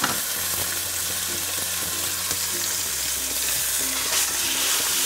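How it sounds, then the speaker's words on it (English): Pork chops sizzling as they hit a hot pan of coconut oil, a steady close hiss with faint clinks, continuous throughout with no talking. "You hear that sizzle? That's what you wanna hear."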